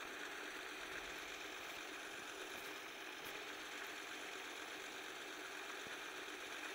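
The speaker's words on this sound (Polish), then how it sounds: "Nie wiem, czemu ten traktor wybrałem, ale fajny jest." Tractor engine in Farming Simulator 14 drones steadily at moderate level, a continuous mechanical hum with faint rattling and no speech.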